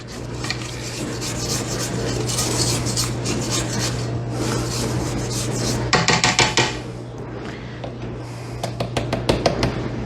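A spatula scrapes down apple cider cake batter in a mixing bowl, giving steady rubbing and rasping strokes with a few sharper taps against the bowl near the end, close and alone with no talking.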